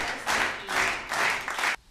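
A studio audience on a Hungarian talk show gives a grandmother a short round of applause, with a few quick bursts of clapping that cut off abruptly, and no speech.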